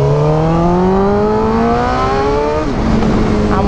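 A motorcycle engine roars loud and close while riding, its pitch climbing steadily through the gears before a brief dip and a fresh rise, with rushing wind underneath and no voices.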